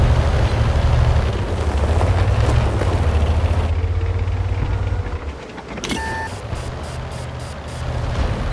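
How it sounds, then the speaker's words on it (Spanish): Artillery explodes in the World of Tanks video game as a continuous heavy rumble with booming bursts, which briefly drops away before a few short electronic beeps sound near the end. "Esa es la artillería."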